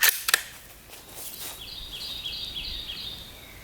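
Sharp crack of a .308 Winchester rifle shot striking a steel target, followed by a quick second impact, then quiet outdoor ambience with birds chirping in the background.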